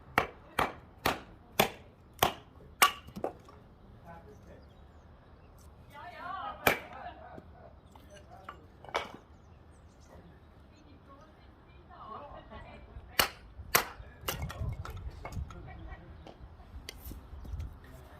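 A Bark River North Country EDC-2 knife splits small pieces of wood, working around a knot. A quick series of sharp cracking strikes is followed by sparser knocks and scraping, with a person talking in between.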